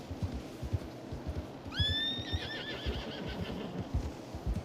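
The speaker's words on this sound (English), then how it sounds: "She says it's an O'Driscoll horse." An O'Driscoll horse in Red Dead Online gives one clear, shrill neigh with a wavering tail, over quiet, steady hoof clip-clops and faint background sounds.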